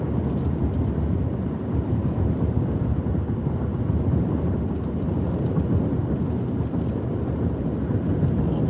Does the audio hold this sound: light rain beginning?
yes